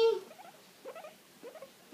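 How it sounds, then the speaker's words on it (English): A guinea pig moves about indoors, making faint, quick pattering and scuffling sounds in short bursts, close and quiet. "This is my sister's guinea pig."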